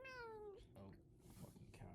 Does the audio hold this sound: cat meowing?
yes